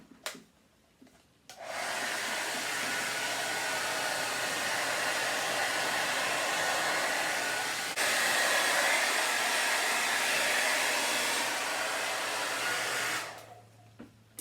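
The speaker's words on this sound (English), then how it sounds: "I'm going to hit it with a blow dryer and try and speed up the process" A blow dryer drying a furniture finish runs steadily for about twelve seconds, a loud continuous whir with a low hum, switching on and off with no talking.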